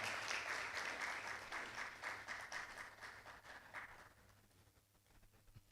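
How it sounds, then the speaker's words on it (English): Audience applause welcomes a panelist onstage at a panel discussion on small business challenges in Ghana, a dense, fairly faint wash of clapping that thins out and dies away over the last second or two. "Please, a round of applause for her."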